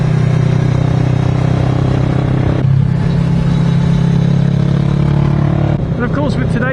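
Steady motorcycle engine drone fitted with a Hurric aftermarket end can, heard close and continuous with strong low rumble and wind noise, on a Sunday ride on quiet roads.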